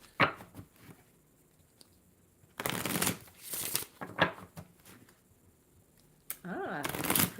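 A deck of tarot cards being shuffled by hand in bursts of riffling, papery flutter, several separate shuffles close to the microphone with quiet pauses between them.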